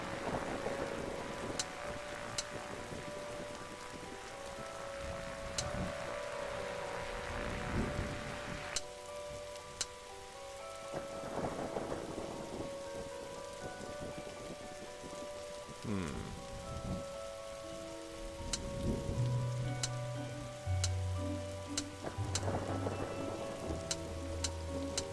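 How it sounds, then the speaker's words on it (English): Rain and a thunderstorm in The Darkside Detective video game: continuous pattering rain with rolling thunder swells and scattered sharp effects, over a long stretch without talk. "the storm is dying out"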